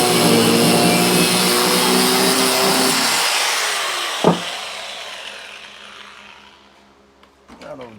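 A saw cuts about 1.5 inches off a metal part from a rusty Triumph, giving a loud, close, steady grinding rasp that winds down and fades, with a sharp clank partway through and small knocks at the end.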